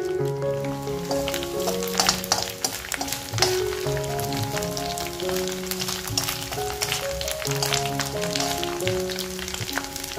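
Dried fish frying in a pan over low gas, a continuous close sizzle and crackle with occasional stirring scrapes, no talking.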